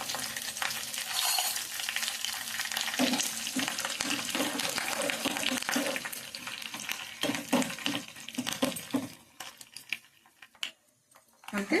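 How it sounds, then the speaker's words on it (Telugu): Mustard seeds, cumin, dried chillies and black gram sputter and sizzle in hot oil for a rasam tempering, with stirring scrapes and crackles up close, fading into quieter pauses near the end. "ఆవాలు, జీలకర్ర ఇవి వేసేద్దాం"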